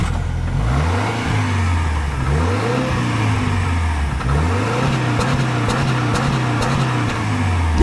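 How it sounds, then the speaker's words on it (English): A Subaru Ascent Onyx revs through its dual-tip exhaust, the engine note climbing and falling in repeated blips, loud and close with no talk. "I want to hear the exhaust."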